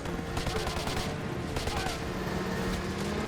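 Rapid automatic fire from a fully automatic Glock pistol rattles in Call of Duty: Modern Warfare 2 during a snowmobile chase, dense repeated bursts over engine noise and game sounds.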